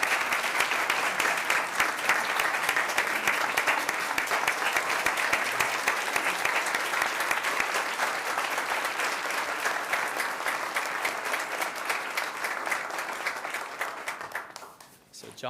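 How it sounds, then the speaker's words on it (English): Sustained, dense applause from an audience at a school board meeting honoring All-State Orchestra students, steady and even for about fourteen seconds before tapering off at the end. "Let's give these students a warm round of applause."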